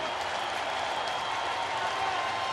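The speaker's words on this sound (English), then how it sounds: "Sellout crowd rises as one on this beautiful Sunday." A sellout baseball crowd cheers and claps on a sunny Sunday afternoon, a dense, steady roar of applause filling the stadium with no break throughout.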